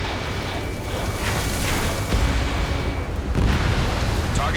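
A ground target blows up in Ace Combat 7, producing a sustained, rumbling explosion that rolls on for several seconds, with fresh booming swells layered over the dense roar.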